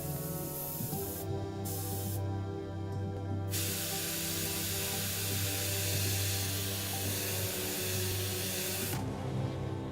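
An airbrush sprays paint onto the armor of a Khorne miniature, a steady loud hiss that runs the whole time and brightens in the middle, with a low motor-like hum underneath and no talking.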